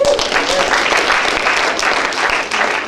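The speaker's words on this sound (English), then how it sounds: "Let's give him a round of applause." Applause from a comedy roast audience, a thick burst of clapping with some voices mixed in, loud and sustained across the whole stretch.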